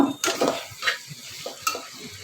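Whole green chilies go into dried fish frying in a pan, with a steady sizzle under several stirring scrapes and light utensil knocks against the pan, close and fairly loud.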